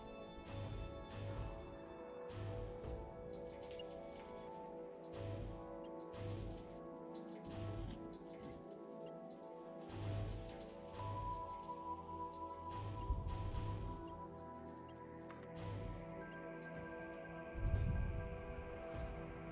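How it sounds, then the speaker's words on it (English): Steady patter of rain with scattered drips in the game Satisfactory, mixed with low game music and faint background effects, continuous throughout. "There goes the rain."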